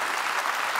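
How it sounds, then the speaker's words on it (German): A television studio audience applauds steadily at a children's-versus-adults spot-the-difference game show, a dense, continuous wash of clapping with no pauses. "ganz großen Applaus"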